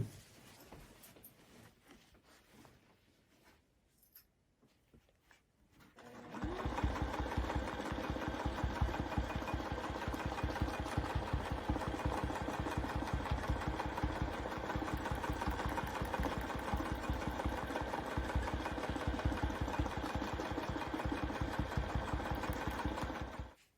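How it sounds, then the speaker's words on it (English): Sewing machine stitching quilted swirls on a baby quilt: a few seconds of near quiet, then a steady, fast-pulsing motor hum that runs evenly to the end, close and without speech. "Okay, I am about to sew the last row of swirls."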